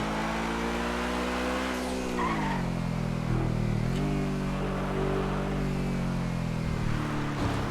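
A car in GTA FiveM drives along with a continuous, buzzy engine drone whose pitch dips and rises as it slows and accelerates, with light tire noise and no speech.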